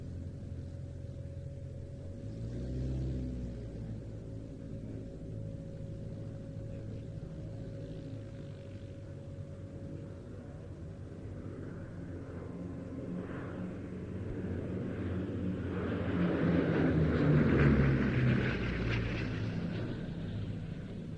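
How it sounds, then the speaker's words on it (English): A Bristol Blenheim, built in Canada as a Bolingbroke, runs its twin 9-cylinder Bristol Mercury 20 radial engines at an airshow at Old Buckenham: a steady distant rumbling drone that swells louder as the aircraft passes, then eases off. "That's the sound of a pair of 9-cylinder Bristol Mercury 20s."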